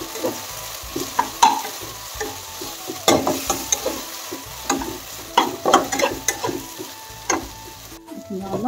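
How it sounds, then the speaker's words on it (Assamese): Fish coated in turmeric powder fries in a pan, a steady crackling sizzle broken by repeated scraping stirs and clinks of a spatula, fairly close, with no talking. "এইখিনি অলপ সময় 5 মিনিটমান সময় ফ্ৰাই কৰি ল'ম।"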